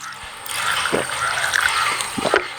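Herbal medicine liquid, a homemade remedy for colds and cough, poured back and forth between vessels to cool it, giving a soft continuous trickle with a few splashier pours, close by and without talk.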